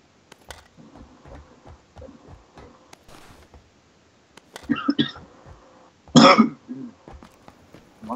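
A person coughs and clears their throat in a couple of loud, close bursts between faint clicks and quiet stretches.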